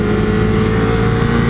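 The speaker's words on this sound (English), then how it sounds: "I would love to haul this baby all through the gears from first to third to really see how good that acceleration is." A Ducati 848 Streetfighter motorcycle under way, its engine giving a steady, loud, close drone with a gritty, pulsing texture and no pauses.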